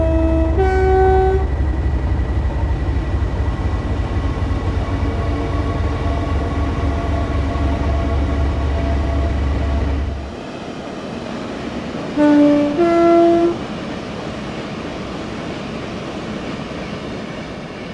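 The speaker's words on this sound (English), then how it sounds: "here is the most recent Class 37 variant we've got in TSW, the Europhoenix Class 37-7" A Class 37 diesel locomotive, the Europhoenix Class 37-7 in Train Sim World, rumbles heavily with a deep engine throb, sounds a two-tone horn at the start, idles lower after about ten seconds, then sounds the horn again.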